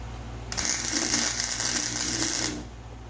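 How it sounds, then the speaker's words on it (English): A tack weld on a custom racecar exhaust with a poor ground gives one close, harsh crackling buzz lasting about two seconds, over a steady low mechanical hum that runs through the whole clip. "Tack welding not going great."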